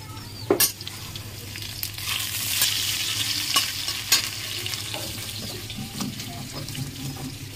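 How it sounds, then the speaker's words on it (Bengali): Potatoes fry in a pan as a utensil stirs them, giving a steady sizzle broken by several sharp scraping knocks, close and with no voices. "আলুটা একটু নাড়িয়ে দেবো।"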